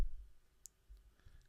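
A single faint, crisp computer mouse click from a short pause while building a WordPress site, heard once, close, in a quiet room with no talk.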